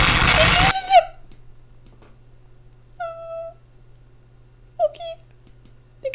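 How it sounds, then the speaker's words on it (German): Three short strained cat-like calls, gagging and yowling like a retching cat in a video game, spaced a couple of seconds apart over a faint electronic hum, after a brief burst of noise at the start. "Wie eine kotzende Katze"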